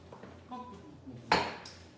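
A knife slices through a loaf of strawberry bread on a plate, with brief scraping and clinking of blade against dish, and a louder sharp cut midway.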